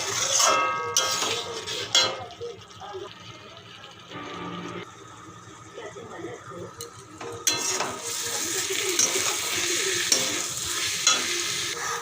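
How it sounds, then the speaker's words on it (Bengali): Spice paste for a rohu fish head curry fries slowly in a pan, a soft sizzle with intermittent stirring scrapes and utensil knocks, fairly quiet and without speech. "মশলাটা আস্তে আস্তে করে কষছে দেখো"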